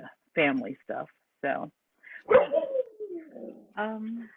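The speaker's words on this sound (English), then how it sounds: "That was my dog saying something" A pet dog barks and whines at home during an online committee meeting, several short bursts and a drawn-out whine mixed in with a person speaking.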